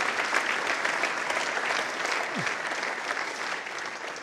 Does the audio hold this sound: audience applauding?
yes